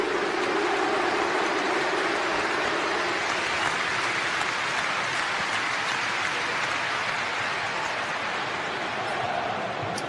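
Football stadium crowd during the Ajax Amsterdam versus OGC Nice match, a broad roar of applause and noise from a large crowd that stays even and fairly distant for ten seconds.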